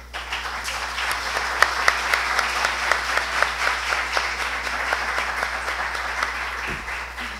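Audience applause after a semiotics lecture, a steady, moderately loud round of clapping with a few sharper nearby claps, continuing evenly over a low hum before easing off.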